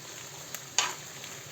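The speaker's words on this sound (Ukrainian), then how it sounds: "Тут так само гриби наші жаряться, смажаться." Mushrooms fry in a pan for a mushroom soup, giving a steady, quiet sizzle with a few soft clicks of stirring.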